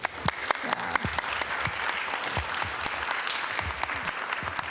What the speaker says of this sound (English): I'd just like to give them a round of applause, please.